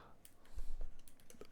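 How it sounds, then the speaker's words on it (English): Calculator keys pressed in quick succession, a few light clicks close by and fairly faint. "whenever I type this into a calculator"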